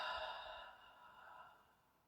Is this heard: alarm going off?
no